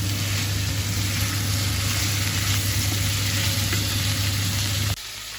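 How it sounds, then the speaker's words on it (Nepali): Chicken gizzards with green soybeans sizzle steadily in a hot pan, a dense close frying hiss that drops away abruptly near the end, with no voices. "अब यसलाई पनि 4-5 मिनेट जति यसरी नै भुट्नुपर्छ।"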